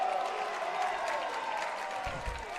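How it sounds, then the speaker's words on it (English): Crowd applause and cheering at the US Open 2023 men's weapons martial arts competition, a dense, steady wash of clapping and voices filling the whole stretch at moderate loudness. "Crowd starting to get into it."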